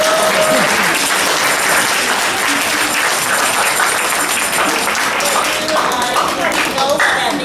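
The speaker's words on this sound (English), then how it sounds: "Can we all give a big applause?" Loud, dense applause from a fundraising concert audience, steady and continuous clapping close up throughout, with some cheering and voices mixed in.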